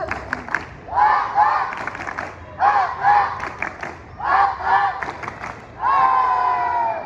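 Primary schoolchildren at an SD school event perform the tepuk semangat clapping chant: a group claps in sharp rhythmic bursts and shouts chanted phrases in unison between them, loud and close, ending in a sustained collective shout.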